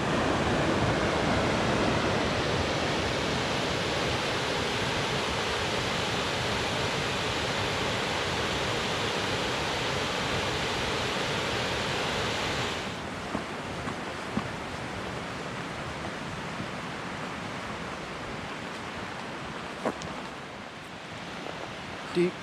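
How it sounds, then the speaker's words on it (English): Indian Creek Falls roars as a steady, broadband rush of falling water in a mountain creek, loud and close at first, then softer for the last stretch with a few faint clicks and footsteps. "Finally, I've came upon Indian Creek Falls."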